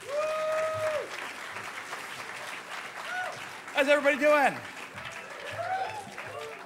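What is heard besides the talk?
audience applause at HOPE conference closing ceremony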